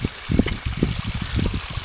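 Creek water trickling and dribbling over a restored stream bed on an 80-acre rural parcel, soft irregular bubbling splashes close by, fairly quiet with no voices.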